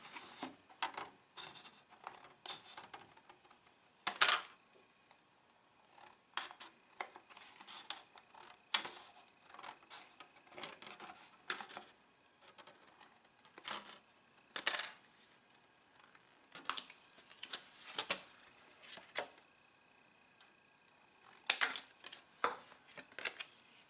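Scissors trimming thin plastic Schurzen armor pieces for a 1/35 scale model, with irregular sharp snips and clicks close up, scattered with quiet gaps between cuts.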